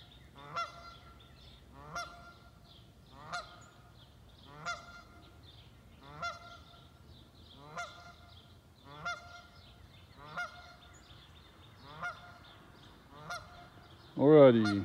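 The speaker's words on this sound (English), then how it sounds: "Luckily, she can't catch those geese." Geese honk outdoors in a regular series of about ten calls spaced roughly a second and a half apart, moderately distant, ending in a louder burst of honking.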